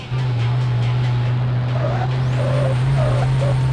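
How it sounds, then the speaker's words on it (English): A loud turbocharged car engine in an indie driving video game drones at a steady low pitch, with faint whistling chirps over it and a voice briefly audible. "this car has a turbo, but it's even louder than the other one"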